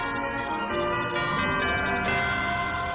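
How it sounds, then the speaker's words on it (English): Bells ringing in a played orchestral-electronic music track, dense shimmering tones layered over sustained harmony, continuous and fairly loud with no talking. "So many bells."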